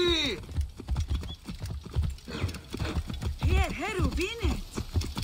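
Horse hooves clip-clop steadily at a walk with a whinny in Assassin's Creed Origins, mixed with game music and voices talking over the sound.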